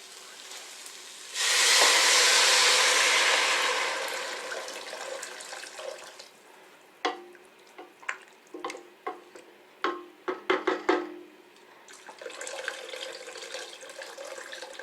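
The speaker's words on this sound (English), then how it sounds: "So I'm going to just cover this with water, cover the vegetables with some cold water." Water gushes loudly from a tap for a couple of seconds, followed by a string of clanks and knocks of a pan, then running water again as cold water covers vegetables for soup.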